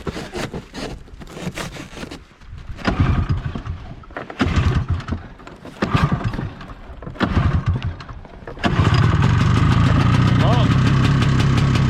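Snowmobile that had sat outside and was pull-started, catching after irregular bursts of engine noise to settle into a loud, steady idle, with people exclaiming and talking over the attempts.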